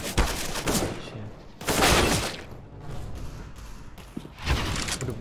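Pistol shots in Counter-Strike: Global Offensive come as bursts of sharp cracks, with a loud cluster at the start and another near the middle, fading to quieter shots and a final burst.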